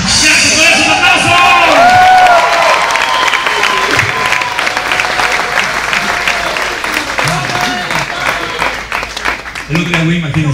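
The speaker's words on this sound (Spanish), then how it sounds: "¡Gracias por eso, un aplauso!" Audience applause at a live Spanish-language comedy show in Oceanside, a loud, sustained clapping crowd that thins slightly and swells again near the end, with some shouting mixed in.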